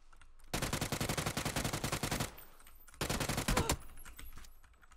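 Rapid automatic gunfire in the battle royale game PUBG, two dense bursts of repeated shots with a short pause between, loud and close.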